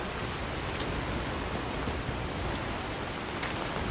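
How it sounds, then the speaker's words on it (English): Rain weather effects in a foggy video game world give a steady, dense hiss of falling rain, fairly loud and unbroken throughout, with no speech. "Look at the rain effects."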